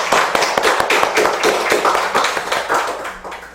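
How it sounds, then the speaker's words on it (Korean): Worshippers at a Buddhist Sunday service in a Seoul Zen centre clap together in a quick, steady rhythm of sharp, close hand strikes that gradually fades toward the end. "자 박수 한번 치시죠"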